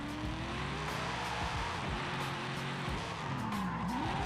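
A V8-swapped Nissan 350Z drifting in Forza Horizon 5 while the engine cuts out, giving a loud, continuous, rough engine roar with stuttering pitch dips and sliding tire squeal throughout, no talk.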